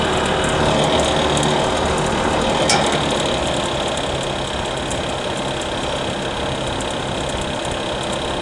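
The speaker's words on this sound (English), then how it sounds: "And then the fan will slow down once I switch it to the heater mode." A 2000 Fahrenheat 1500-watt space heater runs its fan in heater mode, giving a constant close whooshing blow with a faint mechanical rattle. A single sharp click sounds partway through.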